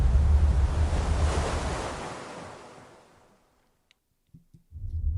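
Sea waves surge in a loud, broad rush that fades away into near silence, followed by a few faint knocks and a returning swell.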